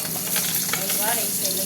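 Fish frying in oil in a pan, a steady close crackling sizzle that continues without break and with no talk.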